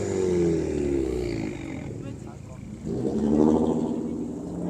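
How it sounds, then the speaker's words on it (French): Car at an automobile gathering in Lille firing up with an explosive roar, a rough low engine rumble that swells and revs under a speaking voice. "Elle démarre en même temps avec un beau bruit explosif."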